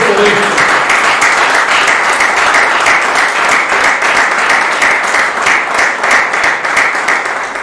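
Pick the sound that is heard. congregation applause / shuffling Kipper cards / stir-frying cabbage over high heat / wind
congregation applause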